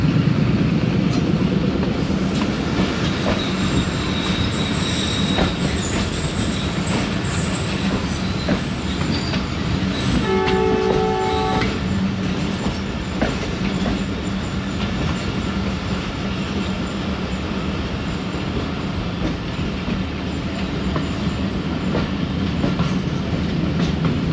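A Pakistani passenger train led by a ZC20 diesel locomotive, travelling from Karachi to Peshawar, passes at a loop crossing with a loud, steady roar, clattering wagons and bouts of wheel squeal throughout.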